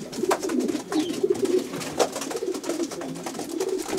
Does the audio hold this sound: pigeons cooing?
yes